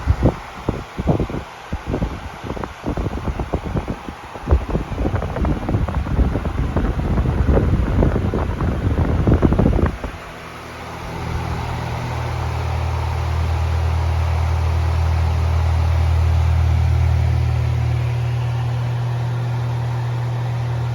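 A vintage Patton 12-inch high velocity air circulator fan at medium speed: gusty wind buffeting against the microphone at first, then a steady close whooshing hum with a low motor drone.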